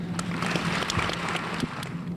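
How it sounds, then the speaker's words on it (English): Steady, dense applause from an audience at a university Founders' and Honors Awards convocation, a continuous soft wash of many hands clapping at moderate distance with no talking. "Please give a round of applause to Dr. Graylin Johnson"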